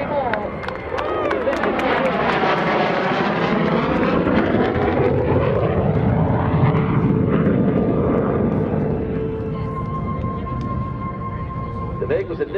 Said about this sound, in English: It wasn't until the F-16 came online that a jet could turn this tight.